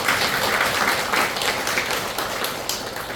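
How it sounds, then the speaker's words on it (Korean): Congregation applause at a Sunday church service welcoming a newly registered member, a steady, dense wash of many hands clapping throughout, fairly close and even, tapering slightly toward the end. "다 같이 박수로 환영하겠습니다."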